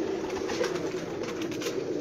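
Pigeons coo steadily at a rooftop loft kept by a pigeon fancier, a soft continuous murmur of several birds close by with no talk over it.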